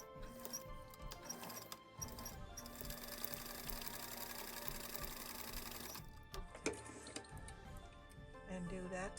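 A sewing machine stitches fabric for a coaster, a close, steady mechanical whir running for several seconds, then stopping amid small clicks and handling sounds.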